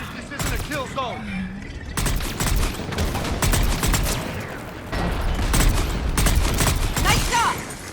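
Bursts of rapid automatic gunfire rattle through a Mass Effect 3 combat scene, with sharp repeated shots, a brief break, and renewed volleys amid faint mechanical noise and voices calling out.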